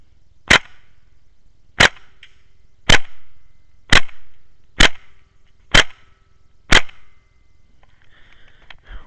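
Seven sharp airsoft shots from a G&P FN M16A4 rifle, fired outdoors at night, spaced roughly a second apart with brief decays and a faint distant ambience between them.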